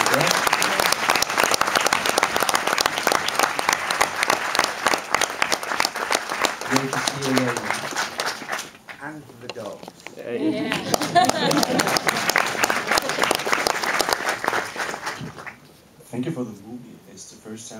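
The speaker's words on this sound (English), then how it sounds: "can I ask you for an applause for that guy?" Audience applause at a film Q&A screening in a Copenhagen cinema, steady dense clapping filling most of the stretch, briefly dipping, swelling again, then fading near the end with faint talk in between.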